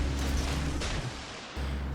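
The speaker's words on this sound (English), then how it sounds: "All right, all the torpedoes unloaded." Torpedoes fired from the destroyer Derzki in the naval video game World of Warships Legends give a deep, booming rumble that holds steady for about two seconds, dips briefly, then swells again.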